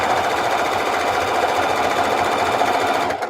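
A sewing machine stitches through quilt binding layers in a loud, steady, close whirring drone, running without a break until it stops near the end.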